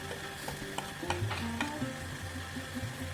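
Pre-fried prawns and turmeric stirred into a pan for a prawn and spinach stir-fry, soft frying sizzle with spoon scrapes and light clinks, fairly quiet and close.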